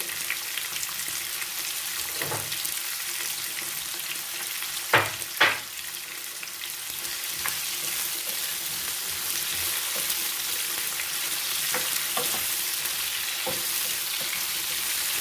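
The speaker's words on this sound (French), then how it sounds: "Je le laisse mijoter." Food simmers and sizzles in a pan with a continuous crackling hiss, punctuated by a few sharper pops or utensil knocks partway through.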